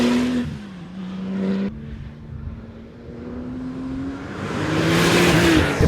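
Porsche 911 GT2 RS turbocharged engine pulling hard on a tight track, a loud sustained drone whose pitch climbs steadily, dips briefly as a gear changes, then rises again with growing rush and wind noise.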